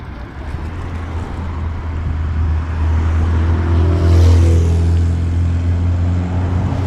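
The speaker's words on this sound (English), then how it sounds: "That was an old Lotus Europa." An old Lotus Europa sports car approaches and passes on a road, its engine hum swelling to a loud peak near the middle before easing off, with steady road and tire noise around it.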